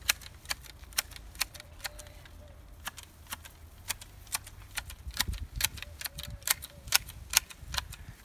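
Hand shears trimming a thuja hedge give a steady run of sharp, close metallic clicks, about two per second, with faint rustling of foliage between snips.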